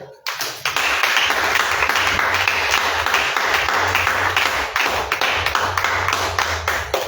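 A church congregation claps loudly and continuously in praise of the Lord, many hands striking in a brisk, fairly regular rhythm that fills the room after a brief quiet start.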